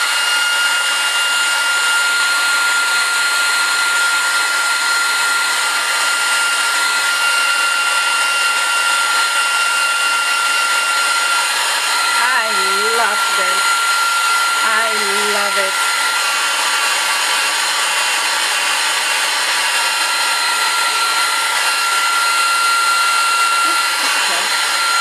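Hair dryer blowing on a jeans book cover, a loud steady close whine running throughout, with brief faint voice sounds partway through.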